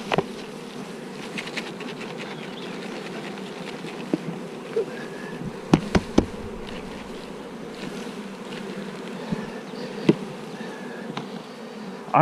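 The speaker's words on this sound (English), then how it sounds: "Now these few bees that are left in here" A few leftover bees buzz in and around an emptied beehive, a steady close drone broken by sharp clicks and knocks from handling the hive.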